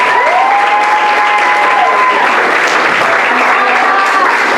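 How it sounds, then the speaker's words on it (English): Sustained audience applause fills the hall at a secondary schools debate competition, loud and steady throughout, with faint voices and cheers mixed into the clapping. "Give her a round of applause."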